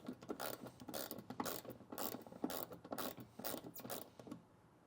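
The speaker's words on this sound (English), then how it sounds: "you're going to use, in my case, a 10mm socket in order to remove those bolts" A ratchet fitted with a 10mm socket backs out bolts while a WeatherTech mud flap is removed on a 2024 Toyota Tacoma, giving rapid, close clicking bursts in an uneven rhythm with short pauses and no talk.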